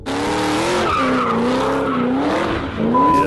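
A Ford GT doing donuts, its tires squealing in long wavering howls over a loud, close engine roar that swells again near the end.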